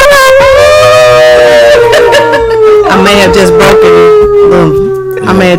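A person imitates a wolf howl for the Red Wolves football team, one long sliding vocal wail that falls slowly in pitch, loud and close, with voices and crowd noise underneath.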